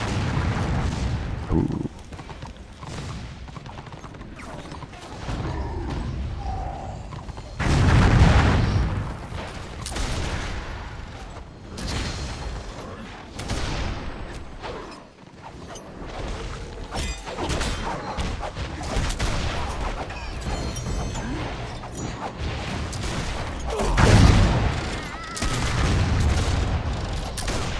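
Dwarven cannons fire repeatedly in the video game Warhammer Online, with heavy booms and crashing bursts layered over continuous battle noise, and a voice exclaims briefly.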